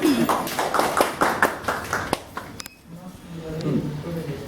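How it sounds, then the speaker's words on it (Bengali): A group of people claps loudly during a community meeting about school and mid-day meal problems, with brisk overlapping claps for about three seconds before the applause stops and voices murmur. "তালি জোরে একটা"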